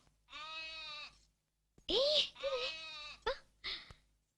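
A young lamb bleats in a village setting, several wavering, high cries separated by short gaps, close and clear, the last few calls shorter and choppier.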